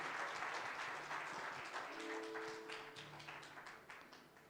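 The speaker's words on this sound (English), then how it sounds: "Give him a round of applause, please." Audience at a Rwandan environment day event applauds prize winner Godfrey Karema, a thick burst of clapping that slowly thins and fades, with a faint sustained tone briefly sounding beneath it.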